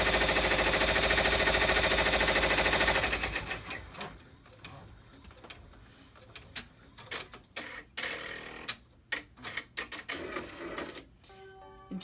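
An embroidery machine stitches in the hoop with a rapid, loud mechanical whir for about three seconds, then stops, leaving scattered clicks and handling noises as the frame is adjusted.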